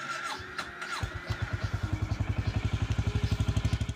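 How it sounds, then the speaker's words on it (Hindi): A motorbike engine cranks briefly and then catches into a rapid, even idle putter, close by and fairly loud, with a few light clatters before it fires. "स्टार्ट करते हैं बाइक।"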